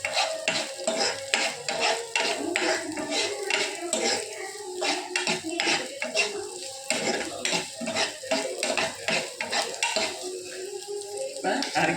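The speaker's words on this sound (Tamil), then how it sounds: "வச்ச வெங்காயத்தை சேர்த்து வதக்கிக்கலாம்." Onions sauté in a pan as a utensil scrapes and stirs in quick, steady strokes, with a soft sizzle underneath and a continuous clatter of metal on metal.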